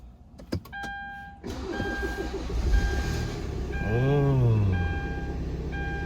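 A car engine cranks and starts after its battery has been charged to 12.7 volts, preceded by a few chimes and clicks, then a rising whir as it catches and settles into a steady idle close by.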